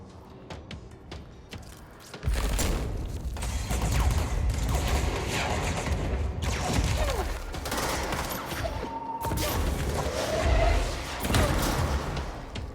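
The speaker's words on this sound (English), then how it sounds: "There's a rocket." A rocket fires during a firefight in the video game Control: after a quieter opening, a heavy thump kicks in around two seconds, followed by loud, sustained blasts, mechanical clatter and bursts of gunfire, with another sharp impact near nine seconds.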